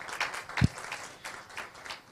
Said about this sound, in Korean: 힘찬 박수를 부탁드립니다